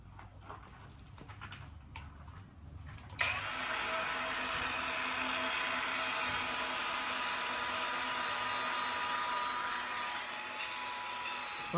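A hand-held sander/polisher with a fine grit pad whines into a loud, steady high-pitched whir against a rock, kicking on after a few seconds of quiet rustling and holding constant close up.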